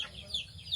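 A hen clucking softly and briefly, faint and close, with no voices over it.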